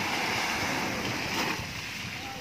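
Strong sea waves wash onto the shore at Estancia in a continuous surging rush, with the swell building and easing slightly as wind buffets the microphone.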